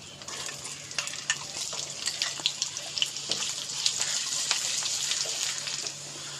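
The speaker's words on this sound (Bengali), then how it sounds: "সর্ষের তেল দিচ্ছি, এবার আমরা আলুটাকে ফ্রাই করব।" Potatoes fry in mustard oil in a home kitchen, a steady hiss of sizzling with scattered crisp pops and occasional stirring clinks, fairly quiet and close.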